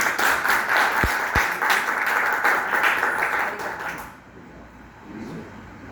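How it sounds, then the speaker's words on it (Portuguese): Applause at an academic and literary honour ceremony, steady group clapping for about four seconds with a couple of sharp low thumps, then quickly dying away into room noise. "Pedimos a todos uma salva de palmas"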